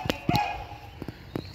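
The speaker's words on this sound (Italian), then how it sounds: "il cane baia" A dog barks a few short, sharp times in a home, somewhat distant and moderately loud against a faint background hum.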